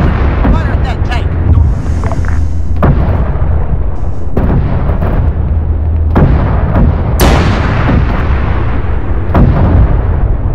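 A tank cannon fires at an enemy tank, producing a series of heavy, loud booms spaced a second or two apart over a constant rumbling battle din, with voices talking throughout.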